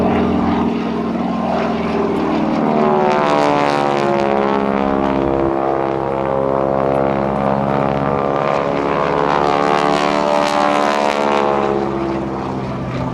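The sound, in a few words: North American T-6 propeller airplane flying at an airshow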